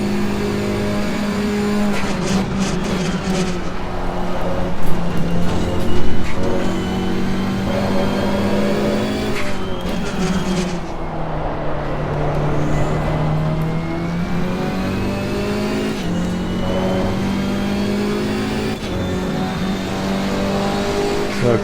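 KTM X-Bow race car engine in the Assetto Corsa Competizione racing game, loud and continuous, revving up and down through gear changes with steady high-pitched engine tones and occasional tire noise.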